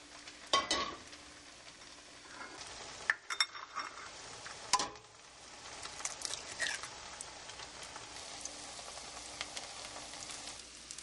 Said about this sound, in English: I am going to fry up 4 eggs in a little bit of butter